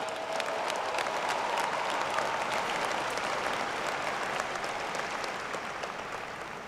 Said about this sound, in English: So let us give our alum a warm round of applause and welcome.